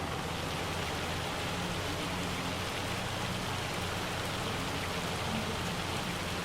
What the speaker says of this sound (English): What time's the hail finishing?